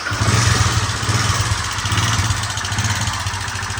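Hero i-Smart 110 motorcycle engine idles nearby with timing chain noise before repair, a steady low throb overlaid by a continuous metallic rattling clatter, loud and alone.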